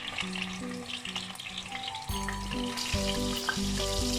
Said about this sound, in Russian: Котлетки обжарились